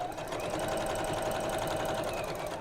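A domestic sewing machine runs steadily, stitching a seam for a simple cross-body bag in one continuous, even whirring hum, close and moderately loud, with no talking.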